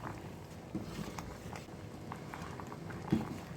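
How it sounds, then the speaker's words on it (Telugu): Andhra-style sambar simmering in a pot: a quiet, steady bubbling with a soft patter and a couple of slightly louder pops. "ఇది ఒక ఫైవ్ మినిట్స్ బాయిల్డ్ అయిన తర్వాత ఇంక తీసేయండి"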